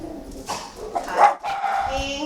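Two dogs bark a few times in the background, partly mixed with a person talking nearby.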